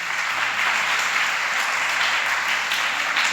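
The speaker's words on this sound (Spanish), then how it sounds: "Vamos a darle un fuerte aplauso a esta palabra de Dios." Strong, continuous applause fills a church as the congregation claps together, a steady dense patter with a low background hum beneath it.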